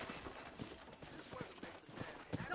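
Hooves clip-clop as a horse is ridden on a ranch, a quick irregular run of soft thuds at middle distance over a low background hum.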